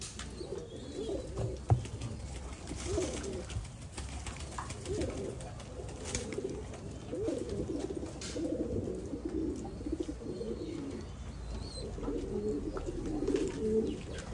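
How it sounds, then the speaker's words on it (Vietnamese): A sick, listless pigeon and others nearby coo in repeated low, throaty rolls throughout, moderately close, with a light background hiss and occasional rustles. "bây giờ mình sẽ cứu chữa cho con chim bồ câu này nhé"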